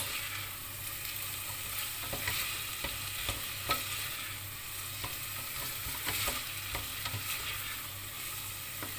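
Artichoke filling ingredients sautéing in a pan, with an even, close sizzle and a scatter of spatula scrapes and clicks as the mixture is stirred.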